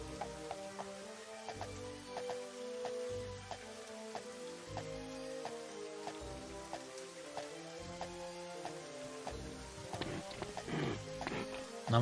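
Horse hooves in the video game Daggerfall Unity, a steady clip-clop of footfalls with overlapping rain-like patter and layered tones running continuously.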